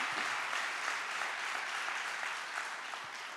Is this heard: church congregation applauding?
yes